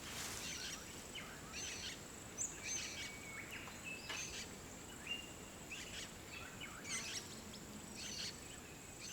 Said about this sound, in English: see if we can hear any birds